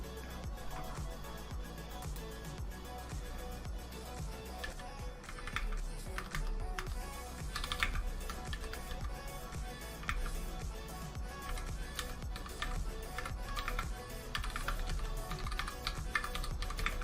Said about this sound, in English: I have my new keyboard